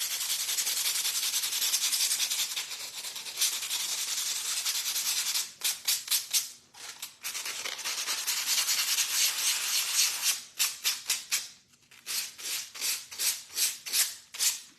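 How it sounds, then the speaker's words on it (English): Sandpaper scrubbed hard against another sheet of sandpaper to clear clogging while working on a wooden spindle house kit, a continuous loud rasp that breaks into quick rhythmic back-and-forth strokes toward the end. "get you your sandpaper and sand your sandpaper."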